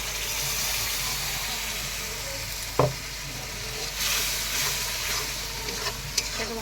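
A paste of ground cumin, ginger, garlic and green chili fries in a pan for a fish curry, a close, steady sizzle with scraping stirs and a few sharp clinks of the spoon.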